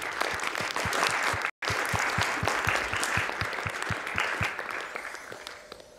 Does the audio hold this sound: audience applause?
yes